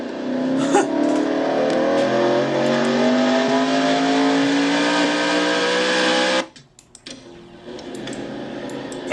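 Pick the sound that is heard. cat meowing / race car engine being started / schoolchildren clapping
race car engine being started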